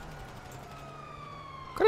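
Police car siren in the GTA Online video game, a faint steady wailing tone sitting under game noise that rises sharply into a louder burst at the very end.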